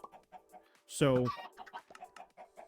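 Minecraft chickens clucking in a chicken farm, one loud close cluck standing out among soft scattered game sounds, with someone talking over it.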